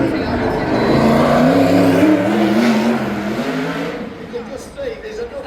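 A Brisca F1 stock car engine roars loudly and close, a rough throaty drone that holds steady then eases off, with someone talking over it.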